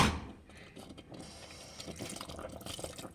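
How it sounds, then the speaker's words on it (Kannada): Water poured into a cooking pot while making country-style chicken chops, a faint trickling and splashing after a brief louder start, quiet and continuous with no talk. "ಒಂಚೂರು ನೀರು ಹಾಕ್ಕೊಳ್ಳೋಣ"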